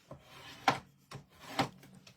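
A scoring blade drawn across paper card, producing a few short scraping strokes at an even pace, close and quiet with nothing else around.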